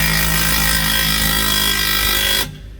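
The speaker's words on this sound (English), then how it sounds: "torque down a little further" A power tool tightens the clamp bolts on a MagnaFlow Overland Series exhaust, a loud steady buzzing whir running continuously for over two seconds before cutting off abruptly.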